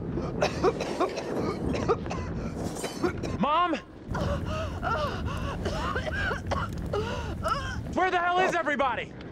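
Several people cough in a burning house, harsh repeated coughs and gasps overlapping close up, mixed with strained voices and cries.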